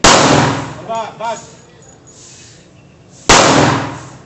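Gunshots fired at a shooting sport range: a sharp loud report at the start and another near the end, each with a short decaying tail, while someone talks briefly in between.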